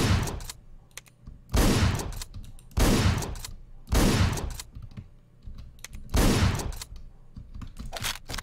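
Sharp bursts of gunfire from guns in Hotline Miami, about six loud clustered volleys spaced roughly a second apart with quiet gaps between them.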